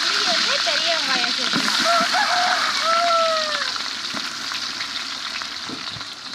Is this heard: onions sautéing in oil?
yes